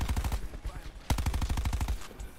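MX9 submachine gun firing in Call of Duty Black Ops 4, two rapid bursts of closely spaced shots, loud and near, separated by a short pause, with faint game ambience underneath.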